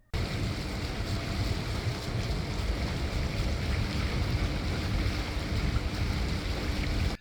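A sailing catamaran motoring at sea under engine power in light, fluky wind gives a steady, continuous rumble mixed with wind and water rush, loud and unbroken throughout with no voices.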